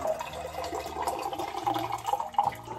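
Hot water pours into a small glass, a steady trickling, splashing flow that lasts a few seconds at a close, moderate level.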